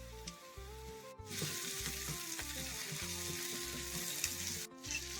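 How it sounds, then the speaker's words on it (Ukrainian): Onions sizzle and crackle steadily in a hot pan for solyanka, a loud continuous frying hiss with occasional pops, close up and without talking. "зараз підсмажуємо цибульку"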